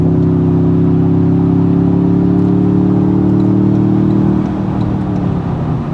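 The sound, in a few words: Toyota Tundra TRD Pro simulated V8 exhaust sound through speakers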